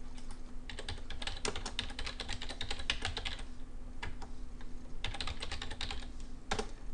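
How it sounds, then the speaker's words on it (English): Fingers tap out login details on a computer keyboard, close clicking keystrokes in irregular bursts with brief pauses between, over a faint steady hum. "Type in your email and password"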